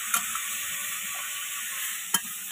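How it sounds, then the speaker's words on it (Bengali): Marinated meat with fresh ground chilli being seared and stirred in a pan, a steady hissing sizzle with a couple of sharp utensil knocks, no voices. "এই যে মাংস ওখানটা কষা হচ্ছে"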